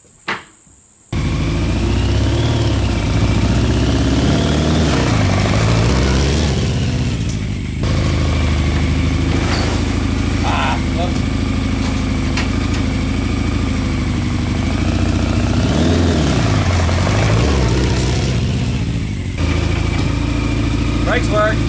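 A Honda CBR 600 motorcycle engine fitted to a reverse trike runs steadily and loudly close by, holding a rough idle with slight rises in revs throughout.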